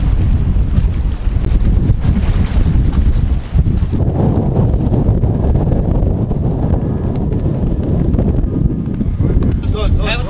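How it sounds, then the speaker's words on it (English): Strong wind roars across an open cruise ship deck near Cape Horn. The gusts are loud and continuous, buffeting the microphone, and voices are mixed in. "It is windy and chilly."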